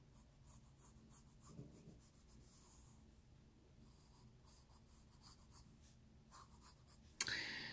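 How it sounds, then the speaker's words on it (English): A pencil draws a bottle on paper, giving soft, close scratching strokes in short bursts, with a louder scrape near the end. "So I'm drawing a bottle."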